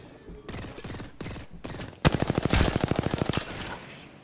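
Rapid automatic gunfire in Apex Legends, a loud burst of evenly spaced shots in the second half after quieter bursts of shooting, with short pauses between volleys.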